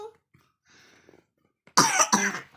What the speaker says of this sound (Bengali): তোমার কি একটু কাশি হয়েছে